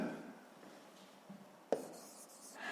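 Pen writing on squared school exercise paper while plotting a point for a sixth-grade maths coordinate exercise, a steady soft scratching that runs throughout with one sharper tap near the end, close and alone.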